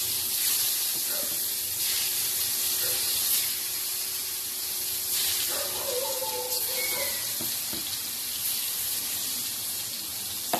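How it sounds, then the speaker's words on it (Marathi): Vegetables fry in oil in a pan, a constant loud hissing sizzle that fills the whole stretch, with occasional light clinks and faint background sounds but no clear talking. "ते पण हे तेलामध्ये मी फ्राय करून घेणार."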